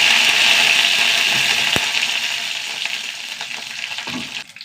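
Mustard seeds, dried red chillies and curry leaves fry in hot oil, a loud bright sizzle that slowly fades, with a single sharp clink partway through and no talking.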